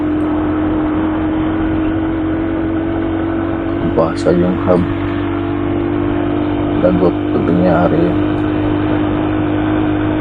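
An overheating vehicle engine with a brake problem idles as a steady, loud low hum and drone throughout, with someone talking briefly over it twice.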